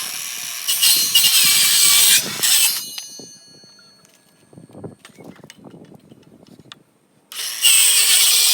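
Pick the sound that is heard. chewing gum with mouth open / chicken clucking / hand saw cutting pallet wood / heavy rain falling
hand saw cutting pallet wood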